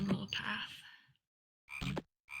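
Toads croaking in the Zoombinis game: three separate raspy, buzzing croaks, the first long and the last two short, with silent gaps between them and no talking.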